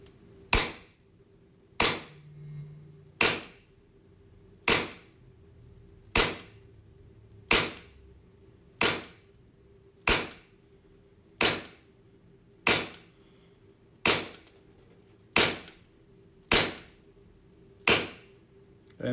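A KJ CZ75 SP-01 Shadow airsoft pistol with a CNC aluminium grip fires on a green gas magazine, fourteen sharp, loud shots at a steady pace of roughly one per second, with a faint hum between them.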